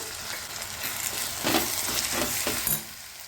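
Garlic and a small peeled tomato sautéing in a pan for green brinjal bharta, a steady close sizzle with soft stirring scrapes that swell around the middle and ease off toward the end.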